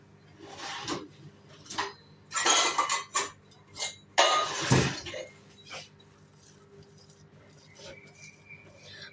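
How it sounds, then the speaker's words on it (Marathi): Cooked chana dal puran is pressed through a metal sieve, giving bursts of metallic clinks and scraping in uneven clusters, fairly close, with quiet gaps between them and faint voice in the background. "गरम गरम आहे ना तेव्हाच आपण ह्याला असं बारीक असं चाळणीमधून वाटून घ्यायचं"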